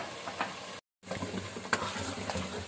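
Potatoes tipped into meat frying in a pot for a turnip and mutton curry: steady sizzling and stirring with a scraping spoon, a brief silent break, then continued frying noise close by.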